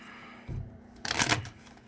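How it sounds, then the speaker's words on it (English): Tarot cards are shuffled by hand in two quick, papery bursts close by, the second louder and busier than the first. "Shuffling is crap today."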